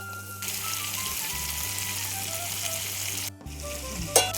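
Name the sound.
fried potato and cauliflower sautéed with spices in a pan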